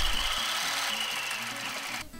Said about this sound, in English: top stitching about an 1/8 inch in from the edge